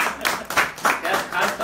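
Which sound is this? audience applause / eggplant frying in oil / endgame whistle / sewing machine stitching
audience applause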